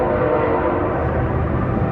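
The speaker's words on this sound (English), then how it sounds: "And there's a train." Train horn sounding over the heavy rumble of a passing train in a Texas Panhandle town, a loud continuous blast and roar close by, with no talking.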